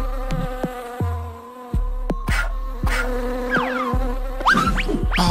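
A bee in a Minecraft Squid Game animation buzzes with a steady droning tone, loud and close, broken by sharp clicks and a few sweeping game effects.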